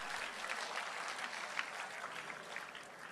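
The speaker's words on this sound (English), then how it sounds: "You should clap." Audience applause at a national conference for CA students, a steady wash of clapping from a large crowd that holds at an even level throughout, without a clear break or speech over it.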